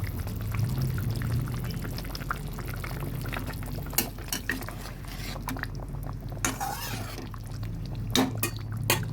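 Pomfret fish curry bubbles in a pan, a steady simmering gurgle with scattered pops and clinks throughout, no talking heard.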